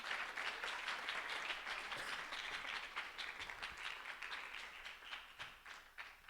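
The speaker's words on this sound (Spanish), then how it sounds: "Y si le damos una ofrenda de palmas a Cristo," A church congregation of young people claps together as an offering to Christ, a brisk, fairly quiet patter of many hands that thins and tapers off toward the end.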